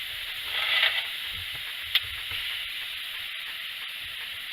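Marinated pork chops sizzle steadily over an outdoor grill fire, a close, continuous bright hiss that swells briefly at the start, with occasional small pops and no talking.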